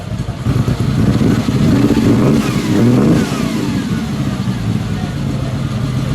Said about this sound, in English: Can you give it one more rev?